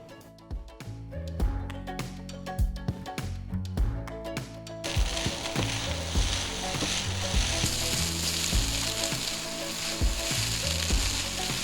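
Singapore noodles with chicken, egg and spring onions stir-fried in a pan, a steady loud sizzle with scraping and clattering of a utensil against metal, no voices.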